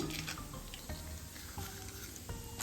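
Almonds go into hot ghee for carrot halwa and give a soft, steady sizzle with faint crackles and a few light clinks of a spoon against the pan, all fairly quiet.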